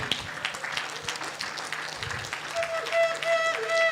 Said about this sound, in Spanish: Dale fuerte aplauso a Cristo, aleluya.